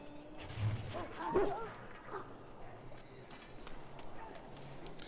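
A sick dog in the Dragon Age video game whimpers and yips faintly beneath a steady wash of game ambience and background noise, with a few soft footstep-like thuds.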